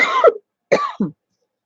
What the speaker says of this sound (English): don't even have anything in here that should be making me cough like that